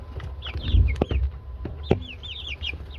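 Chickens in a brooder cluck and chirp softly throughout, with a few sharper calls rising over a steady low rustle and shuffling close by.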